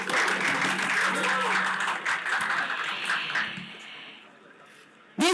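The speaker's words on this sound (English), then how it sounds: "how about a big round of applause for all of you?" At a live launch event for the MS Dhoni cricket app, an audience breaks into steady applause that gradually tapers off, followed by a sharp sound at the end.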